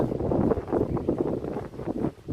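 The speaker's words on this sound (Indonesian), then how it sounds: "Kencang banget anginnya." Gusty wind at an air rifle shooting session rumbles against the microphone, rising and falling in strength, fairly loud and close, with no speech.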